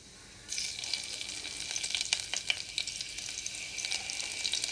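Cumin seeds sizzle in hot ghee inside a cooker, a steady close crackling hiss that starts abruptly and carries on with small popping bursts.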